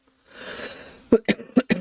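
A soft breathy throat sound, then four sharp coughs in quick succession, close to the microphone.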